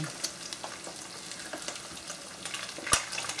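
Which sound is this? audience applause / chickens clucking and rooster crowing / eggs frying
eggs frying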